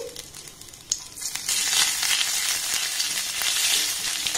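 Grated ginger hits hot oil already seasoned with spices, after capsicum and tomato were fried, for a festive Puja special dish; a steady sizzle swells to a louder, sustained hiss partway through, with a small clink near the start.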